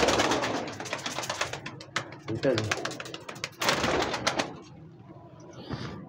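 Sialkoti pigeons coo softly nearby while someone talks over them, with some shuffling and rustling around.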